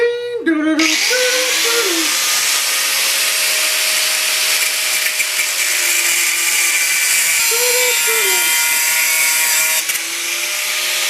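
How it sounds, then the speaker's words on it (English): An angle grinder cutting off a bolt during restoration of a Yamaha 225DX three-wheeler, spinning up with a falling whine and then a loud, steady high-pitched grinding hiss that runs throughout with small pitch dips. "So we're just going to take a grinder and cut that off."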